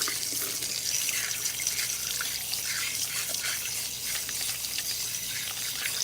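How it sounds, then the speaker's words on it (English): Cool tap water runs while rinsing a client's hair at a salon sink, a continuous hissing, splashing stream close by with no talk. "We're going to rinse her with cool water."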